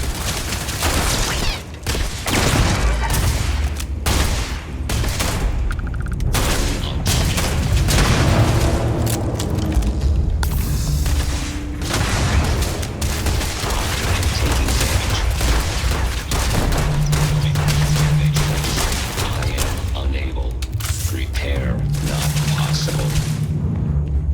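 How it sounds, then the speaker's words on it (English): Gunfire in the PC game Starfield: repeated sharp shots and booming bursts in irregular clusters, loud and close, mixed with game sound effects and a low mechanical hum. "I am opening fire"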